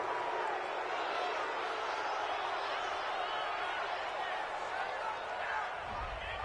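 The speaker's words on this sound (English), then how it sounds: "This home crowd, they're happy with that call." Home crowd cheering in a PS4 football video game after an interception, a steady, dense roar that holds throughout, with voices talking over it.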